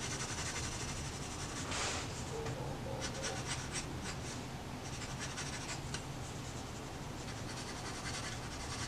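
A 2B pencil shading on paper: steady, faint scratchy strokes with a continuous rubbing hiss, close and quiet, running without pause under a low background hum.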